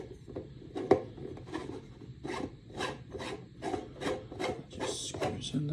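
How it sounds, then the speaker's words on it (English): A nut is tightened onto a 3D printed deck box, producing a run of soft, regular scraping and clicking bursts that stay close and fairly quiet throughout. "You just put the nut on. Okay, tighten it down,"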